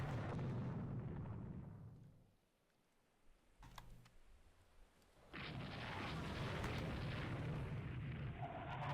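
Missiles striking enemy ships in the naval strategy game Rule the Waves 3, a low rumbling roar of explosions that fades out, a few sharp bangs in the lull, then a loud sustained blast swelling back in.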